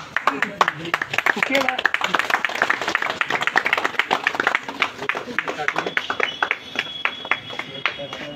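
A crowd at a tribal student union's 21st-anniversary celebration claps in scattered bursts that settle into a steady rhythmic beat toward the end, mixed with nearby talking throughout.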